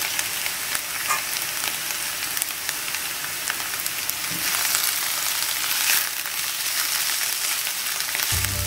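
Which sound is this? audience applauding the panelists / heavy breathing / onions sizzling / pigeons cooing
onions sizzling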